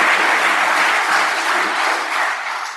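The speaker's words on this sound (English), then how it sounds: "Give her a round of applause." Loud, steady applause from a conference audience at a keynote address, sustained clapping from many hands throughout with no talk over it, tapering slightly at the end.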